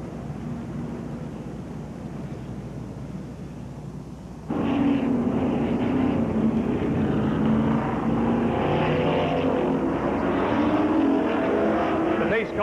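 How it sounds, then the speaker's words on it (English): A pace car at the Checker Flag Speedway in Windsor, Ontario, circles the track before a 1986 stock car race, its engine a steady loud roar that swells partway through, with an announcer talking over it. "The pace car makes its way up and to the exit."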